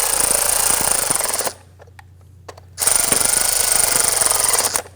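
A powered ratchet or impact tool whirs loudly while snugging the ignition coil bolts on a 2017-2020 Hyundai Elantra engine. It runs in two sustained bursts separated by a short pause with a few faint clicks, close up, and nobody talks.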